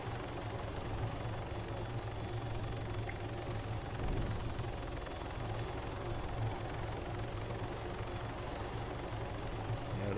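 A helicopter in a military spec-ops video game produces a steady, droning rotor and engine rumble that holds at an even level throughout, with no speech over it.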